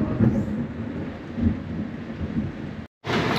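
Rumbling thunder over steady heavy rain during a coastal storm at Cedar Key, a continuous close wash of downpour with deeper rolls swelling, briefly cut off near the end before resuming.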